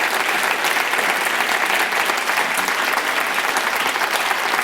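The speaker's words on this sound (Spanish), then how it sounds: "Quiero pedir un aplauso para nuestro panel de" Sustained applause from a conference audience for a panel in Madrid, a dense, even clatter of clapping hands that holds steady throughout.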